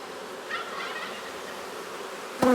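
Honey bees buzzing during the first hive inspection of the year, a soft, steady hum of many insects with a faint rising drone and a short sharp knock at the end.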